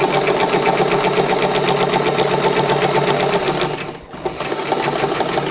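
A sewing machine stitches coat fabric in a loud, steady, rapid mechanical whir that pauses briefly near the end and then resumes, with no talking.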